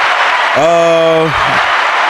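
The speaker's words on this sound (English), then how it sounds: "Round of applause for that one." Steady applause from a small group runs under a brief sung or hummed tone in the middle, then carries on alone, close and fairly loud throughout.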